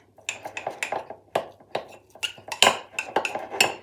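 A spoon stirs chocolate mug cake batter in a mug, making a quick run of close, bright clinks and scrapes in an uneven rhythm.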